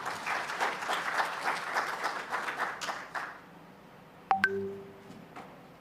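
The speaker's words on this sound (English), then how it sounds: "Please, a round of applause for our CG." A crowd at a symposium closing ceremony claps steadily for about three seconds, then the applause fades out and a few sharp clinks and beeps follow.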